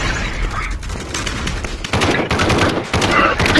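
Rapid automatic gunfire rattles loudly and almost continuously in the VR shooter Aim XR, with dense bursts of shots and mechanical clicks, under a player's occasional talk.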